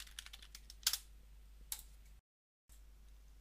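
Soft keystrokes on a computer keyboard tap lightly while a unit is renamed in simulation software. The sparse clicks include a couple of sharper strikes, broken by a brief full silence.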